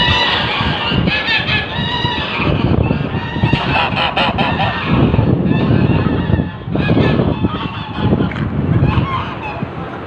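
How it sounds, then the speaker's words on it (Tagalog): A flock of imported geese honking loudly and continuously at close range, harsh overlapping calls forming a dense noisy chorus with faint voices mixed in. "Ang imported na gansa to eh."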